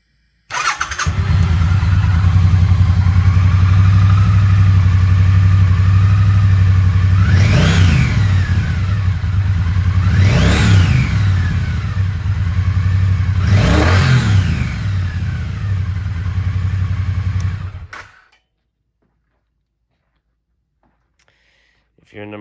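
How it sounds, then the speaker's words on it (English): A 2023 Triumph Bonneville T120 motorcycle engine idles loudly and steadily up close, then is blipped through three sharp revs that rise and fall before the engine cuts off into near silence. "And let's hear it run."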